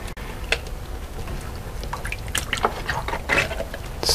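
Ice-cold water poured over cabbage leaves while making cabbage rolls, a steady splashing trickle with drips, moderately close and continuous with no talking.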